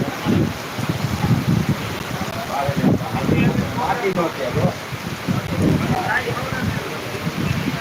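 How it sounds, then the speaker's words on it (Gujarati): Steady heavy rain pours down in Jamkandorna, Gujarat, with gusty wind buffeting the microphone, a dense continuous wash of noise throughout. "અત્યારે વરસાદ ચાલુ થઈ ગયો છે ને ખૂબ જ સારો વરસાદ ચાલુ છે"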